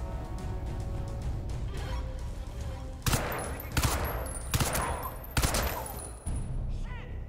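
Bursts of gunfire in the Crysis 2 video game against heavily armored enemies: several sharp, loud shots spaced about a second apart over a constant background rumble of game noise.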